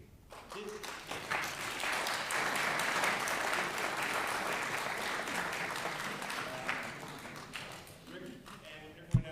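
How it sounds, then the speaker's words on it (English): A board meeting audience gives a round of applause for the Board of Education, a moderately faint, steady patter of many hands that swells and fades, with brief speech at the start and end. "I think we should give a round of applause to the Board of Education."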